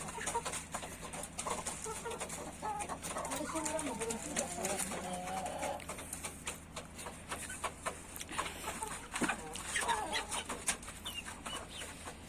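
A neighbour's unusual black chickens clucking nearby in a series of short, repeated clucks, with people talking over and around them.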